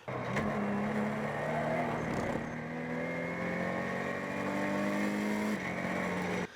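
A Ginetta G56 GTA race car accelerating hard on the Snetterton circuit, with a loud, sustained engine note whose pitch climbs steadily through the gears and dips briefly at a shift.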